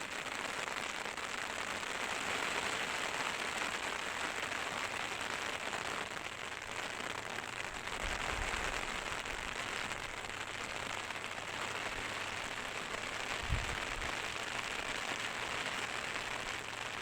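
Steady rain pattering on a fabric umbrella canopy outdoors under an overcast sky, a continuous even hiss with a couple of faint low thumps, no voices.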